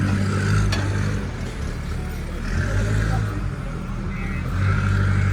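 A car engine rumbles and revs as the car pulls out of a workshop in Dehradun after repairs, a steady low drone rising in brief surges, with faint voices in the background.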